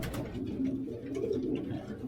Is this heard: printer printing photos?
no